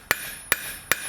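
A blacksmith's hammer strikes the edge of an iron piece for an 18th–19th century toaster, tilted to chamfer it; three sharp, ringing metallic blows land evenly about 0.4 seconds apart, close and alone.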